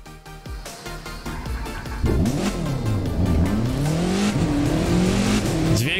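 Mitsubishi Lancer WRC 05 rally car in the racing game The Crew 2, its engine building and revving hard, pitch rising and swooping through repeated throttle blips, loud and continuous with no talking.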